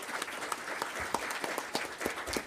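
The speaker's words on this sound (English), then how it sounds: "So could we give them all a round of applause?" A round of applause at a school board meeting, a steady, fairly faint patter of many hands clapping together from across the room for a couple of seconds.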